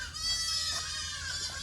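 Young goats bleating on a farm, one sustained wavering bleat close and loud, with a faint second call under it.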